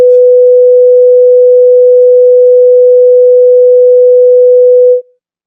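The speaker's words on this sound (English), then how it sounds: "go online to a tone generator online, and you see here I have it set at 497 Hertz" A pure 497 hertz sine tone from an online tone generator holds perfectly steady and loud for about five seconds, then cuts off abruptly into silence.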